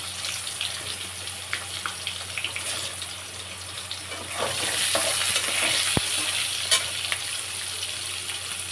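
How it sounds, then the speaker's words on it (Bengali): Pointed gourd (potol) frying in an oiled pan, a continuous close hissing sizzle with faint crackles and a single sharp clink of a utensil midway, growing slightly louder toward the end. "এবার এর মতো পটলটা ভেজে নেব"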